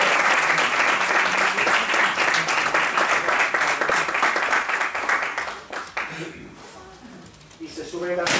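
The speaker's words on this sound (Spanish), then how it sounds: "Recibimos con un fuerte aplauso a Rocío" Audience greeting a woman taking the stage with strong applause: dense, loud clapping for about six seconds, then thinning and fading before a brief swell at the end.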